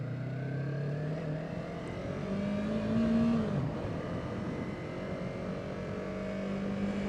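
A sport bike motorcycle engine ridden off road, a steady close drone with a slight rise and fall in pitch near the middle, running continuously with no talk.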